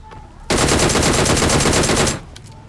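Sustained burst of automatic gunfire in PUBG Mobile on the Erangel map, loud and continuous for nearly two seconds, framed by quieter game ambience before and after.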